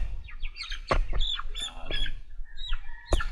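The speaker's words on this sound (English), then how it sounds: "Beautiful chicken." Farm chickens raised for harvest on an organic Philippine farm cluck and squawk in a busy, close flock, with sharp overlapping calls and short bursts throughout.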